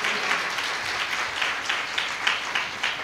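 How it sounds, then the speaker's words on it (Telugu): An audience at a church field training programme claps in a dense, continuous patter of applause, moderately loud and steady with small surges. "క్లాప్స్ కొట్టాలి గట్టిగా, క్లాప్స్ కొట్టాలి గట్టిగా."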